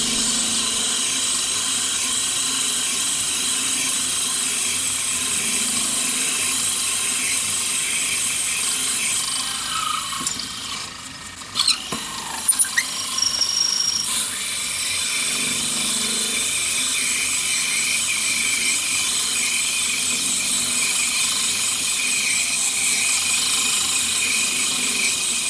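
A steady whirring machine hum of a lathe turning an acrylic pen blank, with a brief burst of scraping and clattering midway, then the even drone resumes, fairly close and constant.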